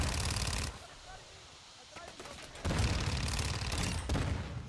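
Rapid gunfire bursts on the Christmas version of the Shipment map in Call of Duty: Modern Warfare II, dense and loud, with a brief lull in the middle before heavy shooting resumes.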